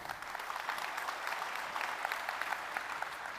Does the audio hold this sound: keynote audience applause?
yes